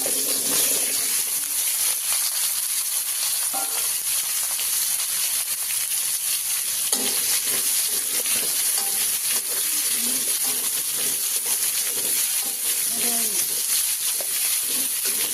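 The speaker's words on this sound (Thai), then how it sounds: "เดี๋ยวเอาฟักทองใส่ก่อน ฟักทองใส่ก่อนนะ" Pumpkin stir-frying in a pan on an electric stove for stir-fried pumpkin with egg, a loud, continuous sizzle and hiss with faint clinks, and a voice occasionally speaking under the sizzle.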